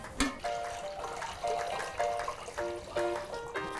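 Tap water running and splashing into a cast iron skillet being washed in a sink, a steady trickle with intermittent clinks and sloshes close by.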